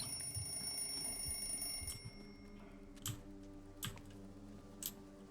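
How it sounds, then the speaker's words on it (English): Inside the horror game Outlast Trials, a strange, continuous electronic ringing drones on as steady high tones over a low hum, broken by a few sharp clicks or taps. "There's like some weird ringing noise going on there"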